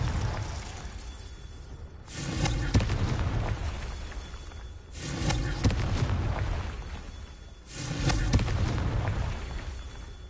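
Confringo explosion spells cast in the video game Hogwarts Legacy: three loud, booming blasts spaced about three seconds apart, each bursting sharply and then rumbling away before the next.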